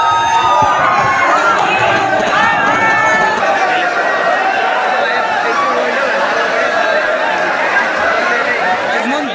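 A large, dense crowd of pilgrims at Lohargal Dham at night fills the air with continuous chatter and shouting, a loud, unbroken babble of many voices close around.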